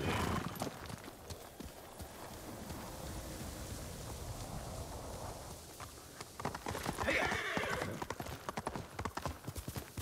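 Horse hooves clip-clop steadily in the Ghost of Tsushima video game, a close, continuous trotting rhythm with a brief whinny and a rustling, rain-like wash behind it.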